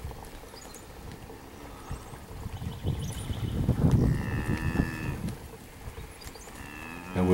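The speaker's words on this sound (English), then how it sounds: "It's a very nice set of backgrounded steers coming from Don Chriscoe, Chriscoe Farms." Backgrounded steers low and moo in a pen, a few deep calls rising in the middle, with shuffling and faint background noise.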